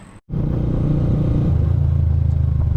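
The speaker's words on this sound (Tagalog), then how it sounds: "Ayan napainit ko na rin yung makina ni Mia" A steady engine rumble and clatter from a warmed-up motorcycle, starting after a brief dropout and idling loudly and close throughout with no talk.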